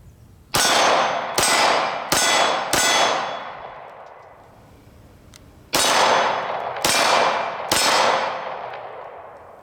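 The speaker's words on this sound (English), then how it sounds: "Let's take a quick look at some day and night shots to get a sense of recoil and also muzzle flash." Seven sharp 9mm +P Hornady Critical Duty 124 grain pistol shots ring out outdoors, a quick group of four followed after a pause by three more, each loud crack trailing off in a ringing decay.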